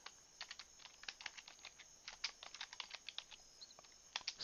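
Soft, quick keystrokes on a computer keyboard tap out in irregular bursts and short pauses, quiet and close, with no one talking.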